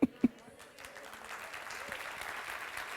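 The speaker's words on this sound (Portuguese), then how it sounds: "Você pode aplaudir melhor e mais forte ainda?" A church congregation claps in sustained applause, opening with two sharp, close knocks and then settling into a steady, diffuse wash of many hands at moderate volume.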